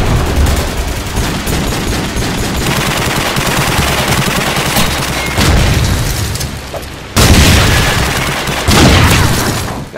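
Loud, sustained automatic gunfire from Call of Duty 4 fills the whole stretch, rapid bursts and booming shots packed densely together, swelling louder near the end.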